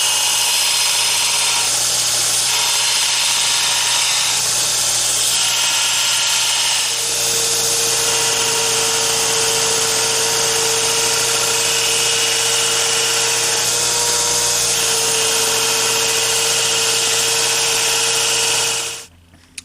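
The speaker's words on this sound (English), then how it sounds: "Now we do the rest over on the grinding belt." Belt grinder shaping a knife blade, a loud continuous high whine and rush with a steady motor hum, the tone shifting as steel meets the belt, then cutting off at the end.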